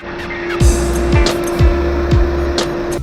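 A Ford Aspire idling just before a drag race against a Tata Nexon, a steady engine hum heard from inside the car, punctuated by several short descending swoops and knocks at roughly half-second intervals.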